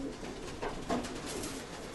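A soft pigeon coos faintly a couple of times amid low background noise, without any talking.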